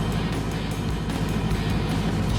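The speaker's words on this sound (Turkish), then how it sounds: "Yağı rahat boşaltmak için jeneratörü biraz boşta çalıştırarak yan sıcaklığını artırıyorum." A diesel generator idling to warm up before an oil change, giving a loud, steady low rumble that holds constant throughout.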